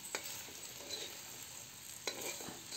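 Fried okra and potato sabzi with spices being stirred in a pan, a few soft scraping strokes over a faint steady sizzle, quiet and close.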